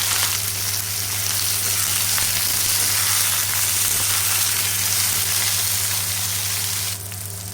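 Brinjal pieces fry with onions in a hot pan, giving a dense, steady sizzle that stays loud and even throughout, easing off slightly at the very end, with no talking.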